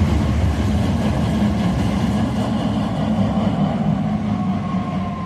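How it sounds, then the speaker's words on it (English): A city tram rolls past on a street in Sarajevo, Bosnia, a steady heavy low rumble of wheels and motor close by, gradually easing off toward the end with no talking. "There goes the tram."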